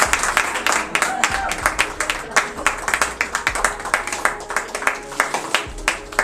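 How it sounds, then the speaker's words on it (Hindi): Several people clap their hands in quick, uneven rhythm at an unboxing, sharp claps close by with a voice talking over them. "अरे अनबॉक्सिंग कर रहे हैं, ताली बजा दो।"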